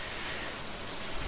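Rain in the video game Stardew Valley patters in a soft, even hiss, quiet and uninterrupted, with no one talking over it.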